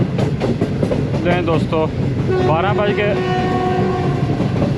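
A Green Line passenger train runs near Lodhran Junction in Pakistan with a loud, steady rolling rumble, and its horn sounds in several wavering blasts midway. Someone says a word briefly at the start.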